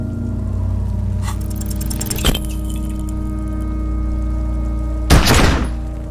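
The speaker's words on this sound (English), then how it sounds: "A plume of smoke erupts from the barrel. Your hand goes numb from the explosion." Gunshot from a handgun in the video game Disco Elysium: one sharp, loud blast late in the clip, preceded by a smaller thud, over a steady low ambient hum.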